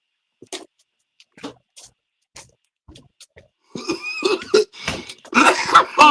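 A person coughs during a morning cannabis-smoking broadcast, starting with a few soft, scattered hacks and throat-clears and then breaking into a louder, harsh run of close coughs over the last couple of seconds.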